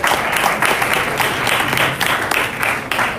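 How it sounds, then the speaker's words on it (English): Audience applause for panel speakers at a Super Bowl panel talk event in Miami, a loud, continuous, dense clapping from a sizable crowd lasting the whole few seconds. "round of applause for these guys"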